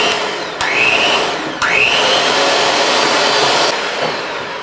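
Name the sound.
mixer blending sugar and cream cheese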